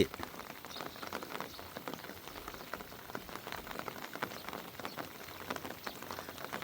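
Steady rain patters down in a rural Thai field area during a day-and-night downpour, a dense, even hiss of drops on surfaces, fairly faint and without voices.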